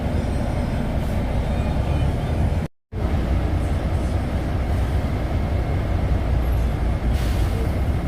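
Heavy road traffic with buses and trucks, heard from inside a stalled vehicle on a hot day: a constant loud engine rumble with hissing air brakes and no speech.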